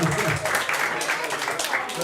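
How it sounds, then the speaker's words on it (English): An audience at a temple fundraising dinner claps in a brief, dense patter of moderate loudness, with a voice speaking over it. "So round of applause, very well"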